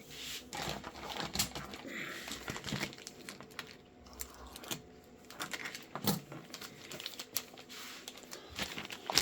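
A plastic parts packet from an RC car kit crinkles and rustles as it is cut open, with irregular soft snips and handling noises close by and quiet.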